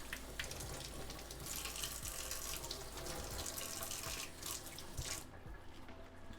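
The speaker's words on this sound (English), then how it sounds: "Okay, those are all rinsed up." Food being rinsed under a running kitchen tap, a steady rush of water with occasional splashes and drips, heard close and alone.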